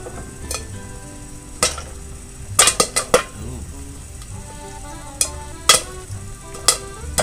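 Popcorn stirred in a metal pot on a home stove, giving sharp scraping clinks and knocks in irregular bursts over a low steady sizzle, with faint tonal music in the background.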